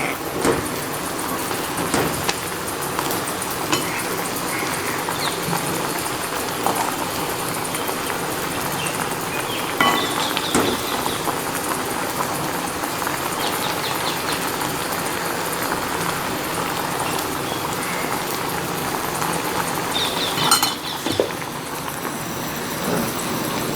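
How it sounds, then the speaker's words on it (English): Raw turkey berry vatha kuzhambu comes to a boil in a pot, giving a steady, even bubbling hiss that continues without pause and carries a few faint clinks. "This has come to a boil."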